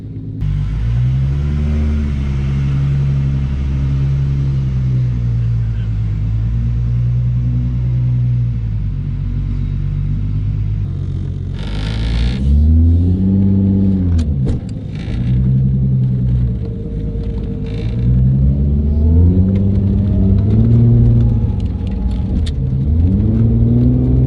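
A Ford Falcon XF with a Barra engine swap drives on a misty, wet road, its engine a loud, close, continuous rumble that rises and falls as it revs up and eases off repeatedly.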